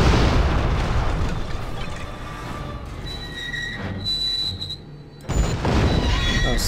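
A dynamite blast in the Western game Gun lands as a loud, close boom with a rumbling tail that fades, followed by a short lull and then another sharp burst of noise.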